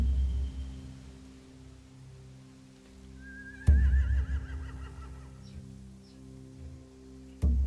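A horse in a video game whinnies in a high, wavering neigh midway through, over a steady low hum, with sharp clicks near the start of the cry and at the end.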